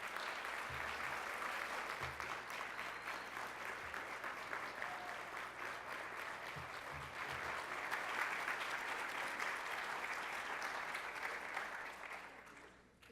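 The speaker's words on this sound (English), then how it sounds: "Ladies and gentlemen, a round of applause for all of our 2017 Perfect Score students." A school board meeting audience gives sustained applause for honored perfect-score students, even, dense clapping continuing for about twelve seconds under a faint low hum, then tapering off.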